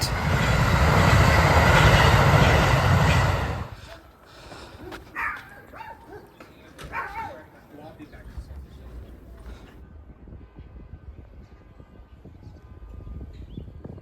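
A commuter train at Sharon Hill Regional Rail Station passes loud and close for the first few seconds with a broad rumbling roar, then fades to quieter station ambience with scattered clanks and what may be a dog barking.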